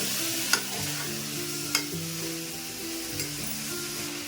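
Freshly cut green beans sizzling as they cook down in a pan for a simple curry, a steady frying hiss with a few sharp utensil clicks over a background of tonal music.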